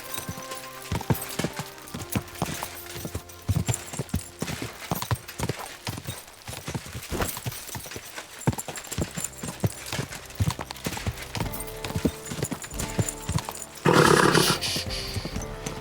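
Hooves clip-clop in a steady galloping rhythm from a horse in the medieval video game Kingdom Come Deliverance 2, loud and close, with a brief whinny breaking out near the end.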